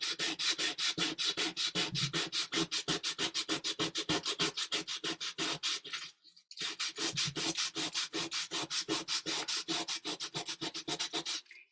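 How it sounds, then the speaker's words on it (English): Sandpaper rubbed briskly over layered magazine collage paper with tape, a steady rapid rhythm of close scratchy strokes, briefly pausing midway before resuming. "And then I'm going to hit it with some sandpaper."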